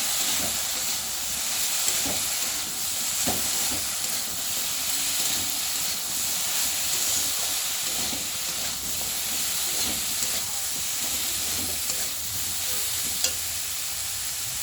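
Pumpkin greens with cumin powder are stirred in a hot pan, a continuous loud sizzle and hiss with soft scraping strokes of the spoon running steadily throughout, no voices.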